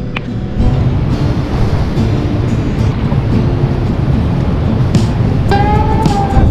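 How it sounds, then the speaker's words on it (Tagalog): Strong wind buffeting the microphone over high waves along a flooded roadside before a typhoon, a loud continuous rumbling roar with surf churning, and a brief whistling tone near the end. "Pero sobrang lakas na ng hangin."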